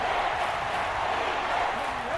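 Steady roar of a stadium crowd in a Madden NFL video game, Houston Texans versus Seattle Seahawks, a dense continuous wash of cheering under the commentary.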